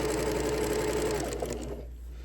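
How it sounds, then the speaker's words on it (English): A sewing machine stitching pre-cut fabric for a large tote runs at a slow, steady hum with a fine rhythmic whir close up, then eases off and fades near the end. "I will use my needle up, needle down position on my sewing machine"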